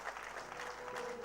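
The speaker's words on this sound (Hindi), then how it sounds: "एक बेर हुनका लेल जोरदार ताली" An audience applauds steadily at a live stage event, a dense, even wash of clapping throughout the short moment.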